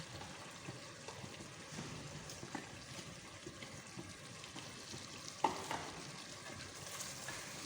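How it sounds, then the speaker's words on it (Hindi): Meat and chana dal being stirred and fried in a pot, a quiet steady sizzle with soft scraping of the spoon and a light clink partway through, no voices. "इसको खूब अच्छा भून के तब इसमें दाल डाल देते हैं।"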